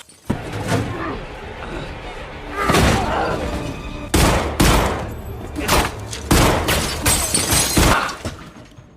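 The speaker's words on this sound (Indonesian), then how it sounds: "Terjadi tembak-tembakan di mana si pelaku akhirnya kalah karena kehabisan peluru." Loud bursts of gunfire crack out in rapid clusters, sharp and close, with impacts and breaking sounds between the volleys.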